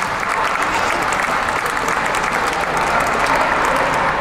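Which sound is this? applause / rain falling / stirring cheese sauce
applause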